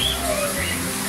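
A parrot at a dolphinarium in Mallorca gives short chirping calls over a steady background hum of crowd and venue noise, fairly close but not loud.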